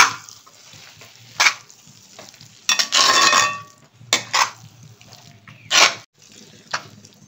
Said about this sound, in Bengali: এরপরে এইটা কাজু বাদাম আর কিশমিশ পুরো নেড়ে দেই।